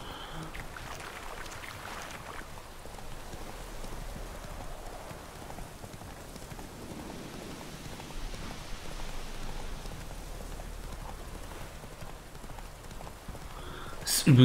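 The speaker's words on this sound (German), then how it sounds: "Nur der Regen macht es so düster." Steady rainfall in the video game The Witcher 3: Wild Hunt, a soft even patter of drops on surfaces, moderately faint and continuous, with faint speech over it.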